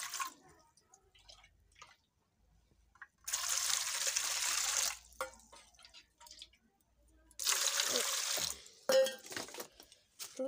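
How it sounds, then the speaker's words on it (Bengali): Hot water splashes from a container onto dried soybean chunks in two steady pours of a couple of seconds each, close by, with light clinks and drips in between. "সয়াবিন ভিজাবো গরম জল দিয়ে"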